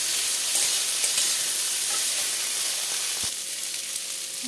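Ginger garlic paste and turmeric fry in a pan with a steady, bright, close sizzle and occasional stirring scrapes.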